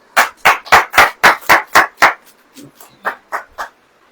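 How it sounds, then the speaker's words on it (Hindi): Church congregation at a sermon clapping in unison: about eight loud, evenly spaced claps, then a brief lull and a few softer ones. "बहुत ताली बजाइए।"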